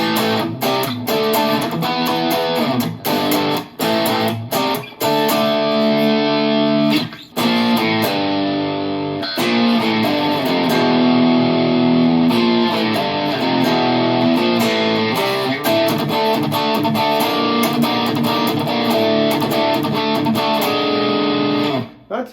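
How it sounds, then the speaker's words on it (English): An electric guitar played through the distortion setting of an Enya Nova Go Sonic rings out loud and gritty in sustained chords and riffs, with brief pauses between phrases. "Now we're in distortion."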